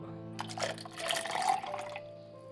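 Water pours into a bowl for making buttermilk, a short splashing, trickling pour of about a second and a half over a faint steady hum.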